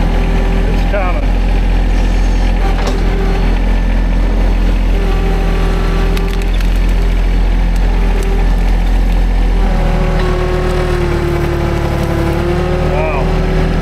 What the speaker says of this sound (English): I am trying to push a tree over, just plain out push a tree over with a tractor.